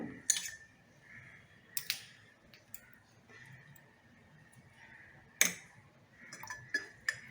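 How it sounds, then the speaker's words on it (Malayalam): Quiet room with a few sharp, faint clinks of an ice cube dropping into a glass of raw mango juice, spaced apart. "ഒരു ഐസ് ക്യൂബ് ഇടുകയാണ്."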